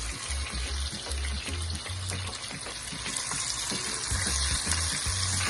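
Fish frying slowly in hot oil, Jamaican style: a steady, close crackling sizzle that holds for several seconds, with soft low bumps underneath.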